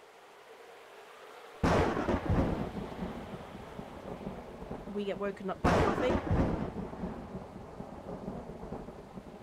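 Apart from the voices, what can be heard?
thunderstorm in Farmer's Life video game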